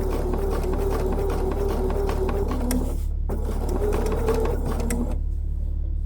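Sewing machine stitching fusible raw edge applique on a quilt, a loud continuous whirring hum with a steady needle rhythm that stops briefly and restarts, then cuts out near the end.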